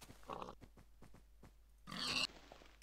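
Pig grunting in the Minecraft video game, heard as a series of short, evenly spaced grunts and then one louder, longer squealing burst near the end, with no talking.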